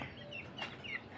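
Caged Kadaknath chickens cluck and squawk softly at close range, a few short calls rising over a quiet, faintly noisy background.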